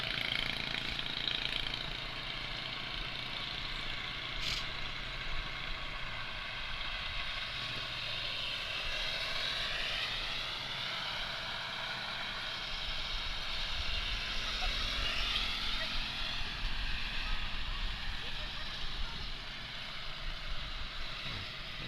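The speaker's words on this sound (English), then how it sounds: "Sounds like the 86 has all of a sudden got a little more RPMs out of it." Racing lawn tractor number 86 revving at an Outlaws lawn tractor race in Petrolia, Ontario, its engine holding a steady, loud drone with rising pitch sweeps as the RPM climbs, over a continuous outdoor rumble.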